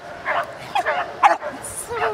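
An 8-month-old Jack Russell terrier gives several short, sharp yips and barks close by, in quick bursts, while people talk nearby.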